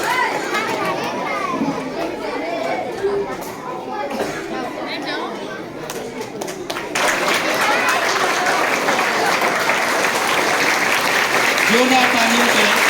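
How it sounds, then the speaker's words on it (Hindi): An audience claps loudly at a celebration honouring a bronze medal winner in Ramnagar, Varanasi, sustained applause mixed with children's chatter and crowd noise that grows fuller partway through. "जोरदार तालियों से"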